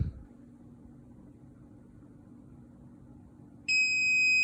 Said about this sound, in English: the alarm. It just keeps going on until you unplug the entire system